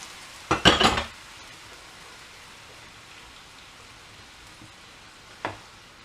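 Beer and stock mixture poured into a hot pan to deglaze it for a steak and ale pie, giving a sharp burst of sizzling hiss that quickly dies down, then a second brief sizzle later.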